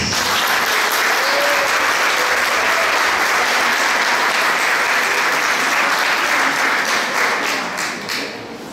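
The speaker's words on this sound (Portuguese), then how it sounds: "Eu queria pedir uma salva de palmas hoje para as mulheres." Warm, sustained applause from an audience honouring women, a thick, even roar of many clapping hands lasting several seconds before gradually tapering off at the end.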